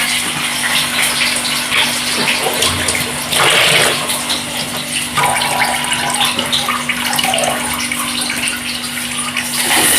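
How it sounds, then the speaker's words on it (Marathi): Tap water runs steadily into a kitchen sink as drumsticks (moringa pods) are rinsed under it, a loud continuous gush with brief splashy surges, no talking. "ड्रमस्टिक सुद्धा धुवून घेते."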